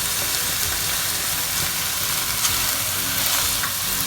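Crushed ginger-garlic paste sizzles and fries steadily in a pan with onions for a Kerala-style rabbit roast, a close, continuous crackling hiss with no talk.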